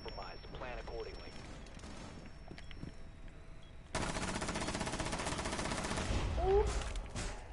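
A whole magazine of automatic gunfire emptied in a video game, a loud sustained rattle of rapid shots starting midway and running to the end, with earlier softer game sounds and brief speech before it.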